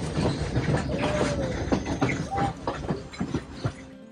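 Blue Train from Kandy to Ella in Sri Lanka, a steady rumbling ride with rattling carriage noise, faint clicks and hiss, continuous and fairly loud with no speech.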